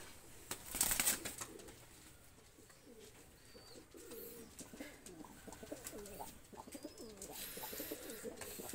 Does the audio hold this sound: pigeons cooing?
yes